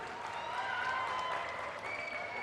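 Audience applause at a public speech about a proposed super-specialty hospital in Karwar, a steady wash of clapping filling the whole stretch without pause.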